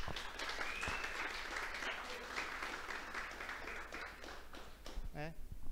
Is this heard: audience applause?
yes